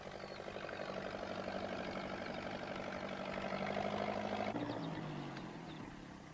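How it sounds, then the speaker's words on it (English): Tractor engine running steadily during a rough ride in Postman Pat's Tractor Express (1981), a low rumbling drone with a pitch shift near the end, fairly faint and alone without talk. "Pat wasn't sure that he wanted to ride on a tractor, but there was no other way."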